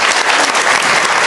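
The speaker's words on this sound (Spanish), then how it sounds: "Un aplauso para Olga." Studio audience at a television talk programme applauds a guest named Olga, a dense, steady wash of clapping with no pauses across the short stretch.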